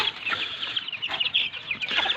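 White hen shut in a coop with another bird in a backyard chicken house, clucking continuously with rapid, bright chattering calls, fairly close and steady throughout.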